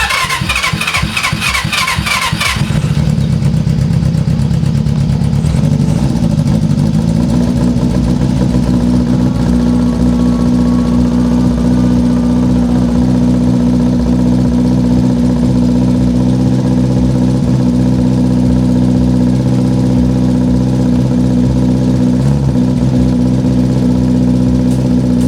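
A 31-year-old motorcycle engine with four carburetors cranks briefly, catches, then runs on at a loud, steady idle, close by, with a rough, throbbing drone and no talking.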